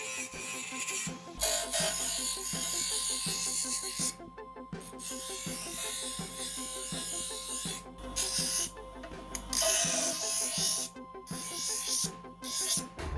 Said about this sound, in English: And then I will go over finally with a bit of sandpaper.